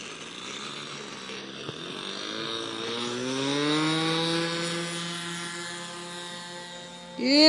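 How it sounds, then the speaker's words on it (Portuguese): Glow engine of a Seagull Swift 40 model airplane running at a steady buzzing whine that rises in pitch and loudness as it revs up, then holds, close by and unbroken, with no voices. "Vamos decolar, aviãozinho?"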